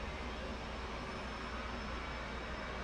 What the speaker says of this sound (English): so left engine crank